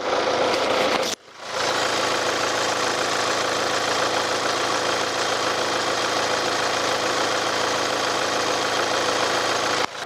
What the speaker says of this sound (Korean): 엔진 소음도 한번 들어보시도록 하겠습니다